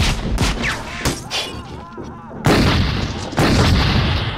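Gunfire in The Terminator (1984): loud, repeated shots and heavy blasts ring out in bursts, with booming impacts and crackling echoes between volleys.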